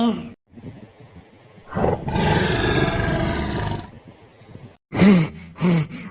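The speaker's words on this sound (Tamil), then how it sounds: "அச்சோ சிங்கமா" A cartoon lion roars loudly in a Tamil animated show, one long sustained roar after a short growl, followed by animated character voices.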